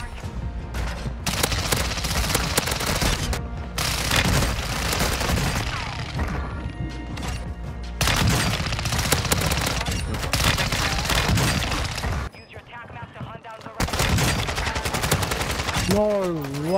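Rapid bursts of X13 Auto akimbo pistol gunfire in Warzone 2 rattle on almost continuously, loud and close, with only brief breaks between strings of shots and a short quieter stretch near the end.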